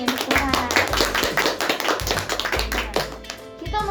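Children clapping their hands during a church service, quick rhythmic claps over music with voices mixed in throughout.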